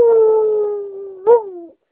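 An otter sings in a long, steady, clear howl that fades, then gives a short second howl that lifts and trails off, close and alone.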